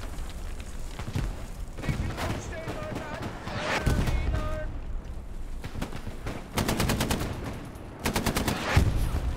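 Rapid bursts of automatic gunfire crackle amid dense battle noise in the video game Hell Let Loose, with a voice speaking briefly over the chaos.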